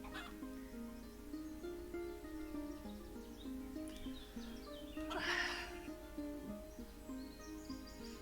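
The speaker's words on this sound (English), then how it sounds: "I think the sound of chickens clucking is really soothing." Soft clucking of video game chickens murmurs in the background over a low steady hum, with a brief brighter rustle midway.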